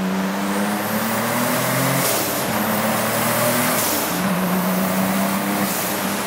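A Subaru Levorg wagon's engine accelerates hard through a tunnel, a loud sustained roar that climbs in pitch and steps through gear changes, with the tunnel reverberation filling the sound.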